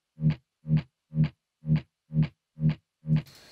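Seven evenly spaced hits of heavily distorted guitar pulse in a steady rhythm, each loud and punchy, ending in a short noisy tail.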